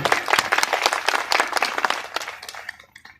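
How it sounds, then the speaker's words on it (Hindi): An audience applauds at a memorial event for a martyr's death anniversary in Patulki, Phulpur, with dense, loud clapping from a crowd that thins out and fades over the final second. "एक बार जोरदार ताली बजाइए भाई।"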